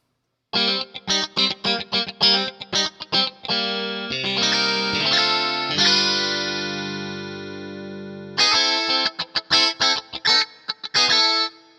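A guitar VST plugin with a different preset plays a sequence of short plucked notes and chords with a sustained, effect-laden stretch in the middle, clear and alone with no voices.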